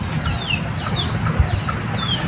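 Chickens in a small backyard poultry coop, soft repeated clucks and short rising calls at a moderate distance over a steady outdoor hum.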